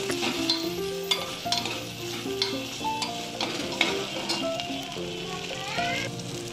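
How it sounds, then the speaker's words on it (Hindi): Onions frying with ginger and garlic in a pan during palak aloo cooking, stirred with a utensil; steady sizzle with stirring scrapes throughout, mixed with background voices and other household sounds. "उसके बाद अदरक लहसुन 1 टीस्पून डालकर अच्छे से मिक्स करें।"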